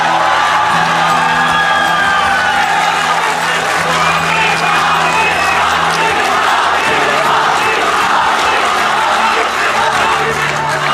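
A crowd at an Urdu poetry gathering cheers and applauds loudly and continuously, with whoops and shouts over sustained clapping and a dense roar filling the whole stretch.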